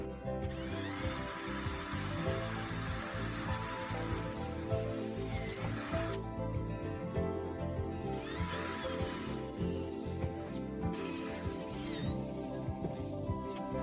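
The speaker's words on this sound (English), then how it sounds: "Attach a smaller drill and pre-drill at the center of all 3 holes." A power drill whirs steadily for about fourteen seconds as pilot holes are pre-drilled at marked centre points in the outer panel of a Maxus e Deliver 3 van door, the motor tone shifting slightly between holes.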